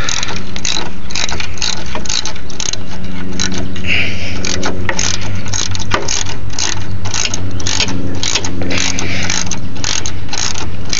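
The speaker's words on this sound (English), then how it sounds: "loosen up the bolt that you're going to use" A ratchet loosens a bolt on a car during a 9006 plug-and-play HID headlight install, with rapid, loud, close clicking pawl strokes that repeat steadily throughout.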